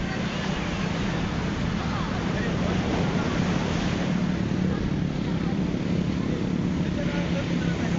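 Rough ocean surf breaking on a Zambales beach, heard as a steady, loud roar of churning water with wind buffeting the microphone throughout and no clear pauses between waves.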